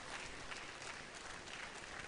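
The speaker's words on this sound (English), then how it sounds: "can we applaud them? They have done the yeoman's work, and they deserve to be applauded" An audience applauds the conference Planning Committee, a dense, steady wash of clapping filling the room from start to finish with no voices heard.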